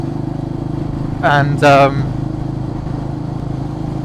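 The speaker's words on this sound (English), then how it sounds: "the engine is pretty much as happy as it gets" A Royal Enfield Meteor 350cc motorcycle engine hums steadily underneath while riding, a constant low drone throughout with a brief spoken word over it.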